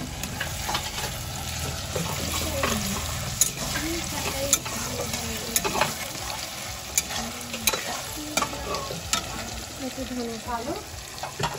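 Ginger and garlic sizzle and fry in hot oil in a pan while egg tadka is cooked, a steady loud crackling hiss with scraping stirs throughout, close up and without talk.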